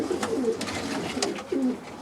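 Young pigeons coo in soft, low repeated calls at a loft where birds are shown, several overlapping coos close by with a steady background murmur.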